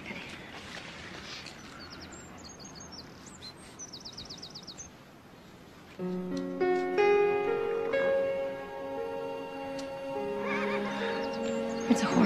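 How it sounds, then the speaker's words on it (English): A horse neighs and whinnies nearby amid outdoor ambience, with bird chirps and clip-clopping hooves, followed by louder, drawn-out whinnying calls. "It's a horse"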